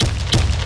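Booming grenade explosion in an online shooter video game, a short, dense, loud burst with a brief second swell and no clear voice.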